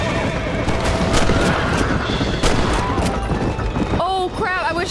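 A horse in the Red Dead Redemption video game whinnies sharply near the end, following a busy stretch of clip-clopping hooves, gunfire and game noise with someone talking throughout.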